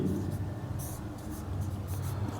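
Pen scratching across paper while a Pythagoras theorem solution for a Class 10 trigonometry problem is written out, a steady faint scribbling with short bursts of strokes, close and continuous with no talk over it.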